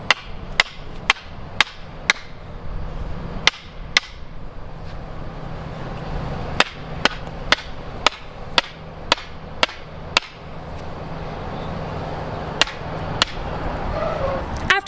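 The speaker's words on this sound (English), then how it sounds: "So I'm going to put one right here about 2 feet out and hammer that in" Sharp, ringing hammer blows drive a tree stake into the ground in an irregular series of about twenty hits, close by, with faint talking underneath.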